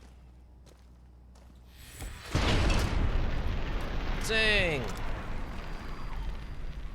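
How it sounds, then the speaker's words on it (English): A plasma gun blast in Fallout: New Vegas erupts as a loud, sudden boom with a rumbling tail, followed by a burst of descending whistling tones; a voice exclaims briefly just before. "That was a bit more explosion than I was expecting."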